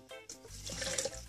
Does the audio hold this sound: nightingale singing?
no